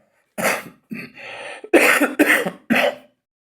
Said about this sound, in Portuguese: Eu começo a falar e a tossir